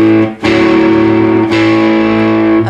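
An electric guitar plays the Tumbling Dice riff, loud, with sustained overdriven chords struck in a few strums, close and alone without any voice.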